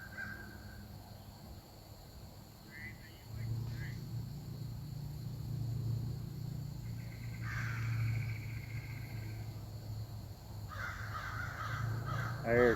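Crows caw in short bursts at a distance over a low, steady rumble in remote woods by a cemetery, with a few calls near the end.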